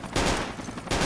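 Dense bursts of rapid gunfire from the Project Reality video game fill the whole second, loud and close, with a short pause before another volley.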